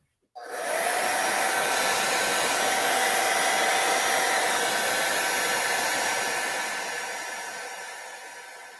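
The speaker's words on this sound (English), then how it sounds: "I'm going to give it some heat." A heat gun blows steadily on a miniature figure's plastic hand to soften it. The broadband airy roar starts abruptly and holds close and loud, then slowly tapers off toward the end, with no voices.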